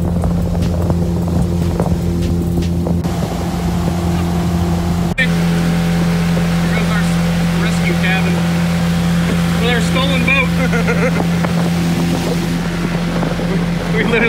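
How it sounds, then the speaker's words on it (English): An outboard motor drives a small boat on a lake near Val-d'Or in northern Canada during a bear hunt, a loud steady engine drone under constant wind buffeting, and a voice speaks briefly over it. "we found the outboard motor"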